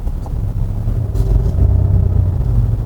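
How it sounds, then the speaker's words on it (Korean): A simulated V8 exhaust note from the active sound system of a SsangYong Rexton Summit plays through its speakers while driving, a loud, deep, steady engine rumble with slight swells in intensity. "이 좌측에 버튼을 누르면은 V8 8기통 배기음이 스피커로 뿜어져 나오거든요"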